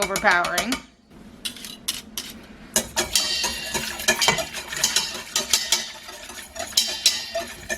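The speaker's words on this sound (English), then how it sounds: "Give that a good whisk." Garlic paste and hot peppers get whisked into a spicy noodle soup, a metal whisk or utensil clinking and scraping rapidly against the pot in irregular bursts, with brief pauses between strokes.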